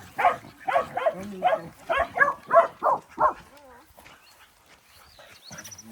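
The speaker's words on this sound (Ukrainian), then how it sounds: "Ой, які гавкучі." A run of about eight sharp dog barks in quick succession, close and loud, followed by quieter sounds and faint voices.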